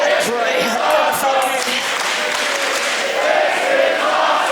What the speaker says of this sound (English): Crowd letting them know how they feel.